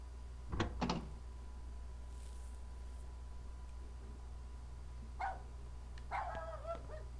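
A puppy in the Rule of Rose video game gives a few short barks and yips, two quick ones early and a couple more later, faint against a low steady hum.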